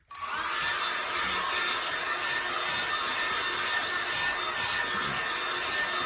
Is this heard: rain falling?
no